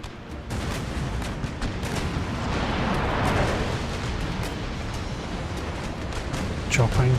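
Naval cannon broadsides boom in the Empire Total War strategy game, a dense, continuous rumble of overlapping gunfire with sharper cracks near the end.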